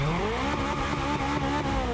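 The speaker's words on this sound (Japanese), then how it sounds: "いくぜ。 エンジンかけ。" A Honda S2000 engine in The Crew Motorfest video game drones loudly and steadily, its pitch wavering as it revs, with no talking.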